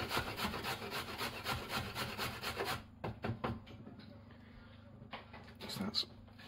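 A carrot is rubbed up and down a grater in quick, rhythmic rasping strokes, fairly close and quiet, with a brief pause partway through before a few slower, scattered scrapes.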